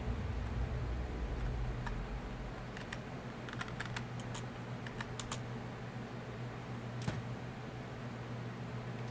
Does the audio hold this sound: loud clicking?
yes